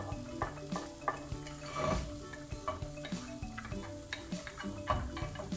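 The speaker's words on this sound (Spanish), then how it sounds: "procedemos a ponerle la cebolla y el ajo a sofreír" Onion and garlic fry in oil in a hot saucepan, giving a soft background sizzle broken by frequent clinks and scrapes of a utensil stirring against the pan.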